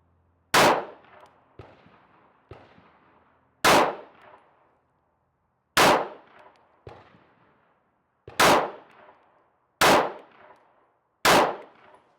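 Six shots of slow fire at 10 meters, each a sharp, loud crack followed by a smaller echoing clang, spaced a second or two apart with silence between.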